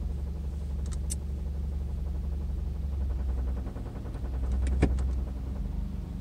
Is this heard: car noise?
yes